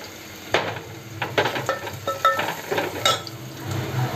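Asafoetida (hing) fries in hot oil, with a soft sizzle under a string of close stirring scrapes and light clinks of a spoon against the pan; nobody speaks.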